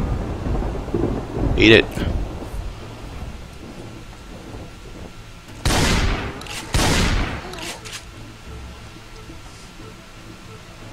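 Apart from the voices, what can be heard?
thunderstorm and rain in Project Zomboid video game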